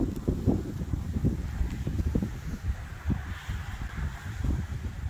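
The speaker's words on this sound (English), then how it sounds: "still really windy here" Strong gusty wind during an arctic cold blast buffets the microphone outdoors near a chicken coop, a continuous low rumbling roar with uneven bursts.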